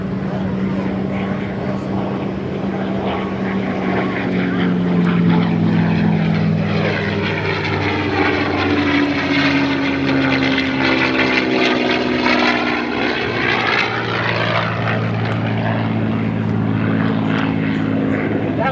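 A P-51 Mustang with its Merlin engine flies aerobatics at an airshow: a loud, continuous propeller drone that swells and shifts pitch as the plane passes, with a voice over a loudspeaker.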